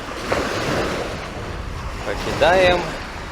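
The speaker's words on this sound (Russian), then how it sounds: "ветер встречный. Встречно-боковой. И волны. Ну, волны небольшие." Broadband rush of headwind buffeting the microphone over steady lapping small waves on Lake Baikal, heard from a kayak, with a brief whistling tone near the end.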